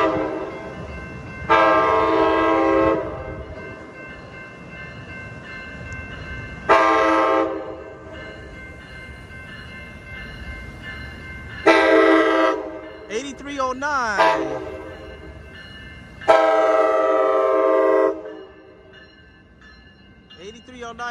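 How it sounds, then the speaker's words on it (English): An Amtrak Capitol Corridor passenger train, with an SC44 Charger locomotive, arrives at Jack London Square in Oakland, sounding several loud, sustained horn blasts over the rumble of the moving train. "here comes Amtrak 538 train to Auburn, Sacramento, and Auburn coming."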